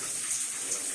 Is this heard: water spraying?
yes